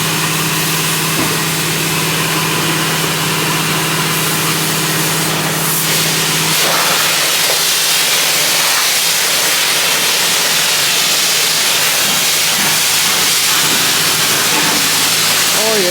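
A pressure washer sprays a car at a car wash with a loud, broad hiss over an idling engine hum. Voices talk over it.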